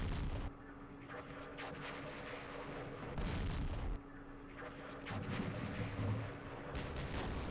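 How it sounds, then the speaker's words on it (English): Artillery fire in the Campaign Series West Front war game at Aachen, several distant booming shell bursts over a steady low rumble, with no talking. "We're hoping the artillery whiffs."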